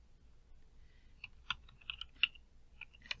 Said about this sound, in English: you'll type in a password that you want